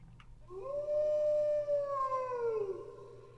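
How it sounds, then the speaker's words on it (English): A wolf howl in the fantasy game Might and Magic VI, one long, clear, rising-then-falling wail that carries for about three seconds over a low, quiet background hum. "that was quite the howl"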